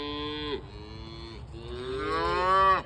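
Young cattle at a wintering site give loud, drawn-out moos up close, one short call and then a longer rising one.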